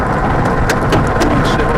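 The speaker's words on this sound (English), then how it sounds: "Look at the size of the hail." Large hail pounds down during a tornado storm, a dense, loud roar of impacts with sharper cracks of stones striking nearby surfaces scattered throughout, no voices over it.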